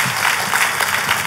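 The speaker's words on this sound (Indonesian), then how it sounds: "Tepuk tangannya pula yang paling meriah buat Tuhan kita." A church congregation at an Ascension Day worship service claps in a brief, lively burst of applause, a dense, even patter of many hands filling the room.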